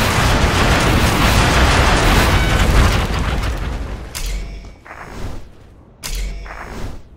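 Rocket barrage explosions in the C&C Generals game, with a long rolling roar of booms for about four seconds, then two or three separate heavy blasts with deep thuds, loud and close, and no talking.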